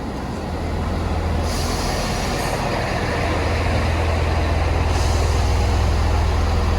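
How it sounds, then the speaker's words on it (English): An HST train pulls in toward the platform, a loud low rumble building steadily with hissing air-brake bursts over it, no voices. "in the next few minutes, our train will be coming, heading towards Derby for our first leg of our journey"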